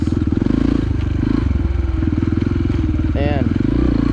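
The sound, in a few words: motorcycle accelerating into a wheelie on enduro course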